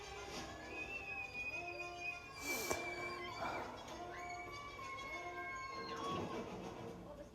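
A cat meows and yowls a few times in a family film scene, drawn-out tonal cries mixed with background music and other sounds.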